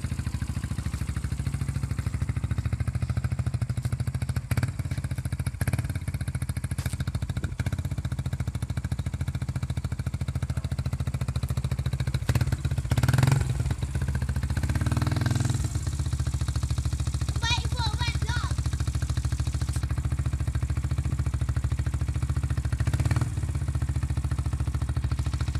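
Yamaha YBR 125 motorcycle fitted with a Leo Vince exhaust, engine running steadily up close with a few surges as it is revved, faint voices in the background.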